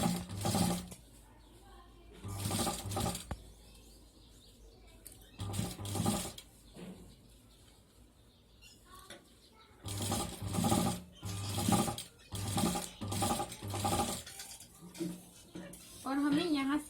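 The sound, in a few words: sewing machine stitching a pocket on fabric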